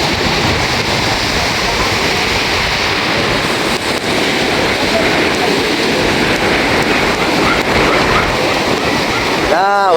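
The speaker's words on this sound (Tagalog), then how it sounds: "Ulan na naman guys." Heavy rain pours at a seaside resort, a loud, continuous broadband wash with gusty wind rumble, unbroken for the whole stretch.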